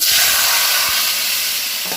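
Dal fries in a hot pan with a loud, close, continuous hiss and sizzle, and a couple of soft stirring scrapes sit under the steady crackle.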